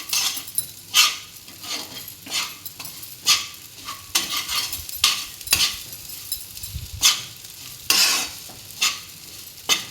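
Edible gum (gond) frying in hot ghee with soaked ajwain: bursts of popping crackle and sizzle at close range, repeating every second or so over a low simmer, with occasional stirring scrapes.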